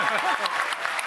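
Live crowd at a game reveal event applauding: dense, steady clapping fills the whole clip at moderate loudness, with some speech mixed underneath.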